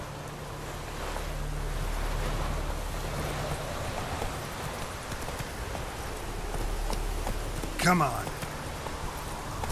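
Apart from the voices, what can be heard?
horse Roach's hooves in The Witcher 3 video game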